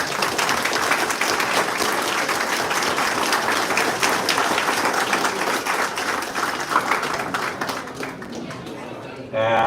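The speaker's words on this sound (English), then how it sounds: "Give them a big round of applause." Applause from the crowd at an award ceremony for the World Championships in Shoe Patina and Shoemaking, sustained dense clapping that fades slightly toward the end, with voices audible underneath.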